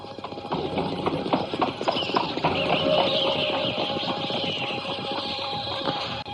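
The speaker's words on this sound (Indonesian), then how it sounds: "Nah, kereta kuda itu sudah dekat sekali." A horse-drawn carriage with flickering lanterns draws near at night, its hooves clip-clopping in a steady rhythm that grows louder against a dense, busy background.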